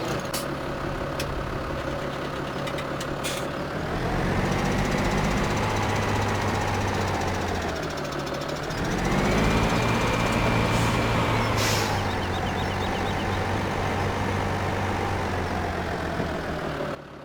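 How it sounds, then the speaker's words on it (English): A small farm tractor's engine runs steadily, a low rumbling idle that swells in revs a couple of times before settling, with a few sharp clicks early on. "There's the engine sounds for you"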